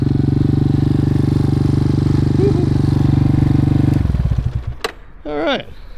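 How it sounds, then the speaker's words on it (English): A Yamaha Warrior 350 four-wheeler idles loud and close through a muffler with no packing, a harsh steady putter that cuts off about two-thirds of the way through, followed by brief voices. "there's no packing in that muffler whatsoever. It is very loud, isn't it?"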